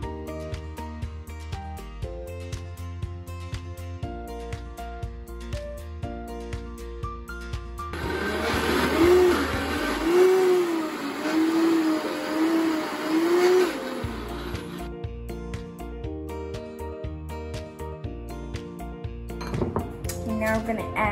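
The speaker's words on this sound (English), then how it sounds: "Now we have to pulse the broccoli." A food processor pulses broccoli in a kitchen, its loud whirring bursts running for several seconds with brief dips between pulses, set between quieter stretches of background music.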